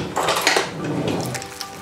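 A knife slices chicken breast into pieces on a board with soft scraping and tapping, close up, no voices.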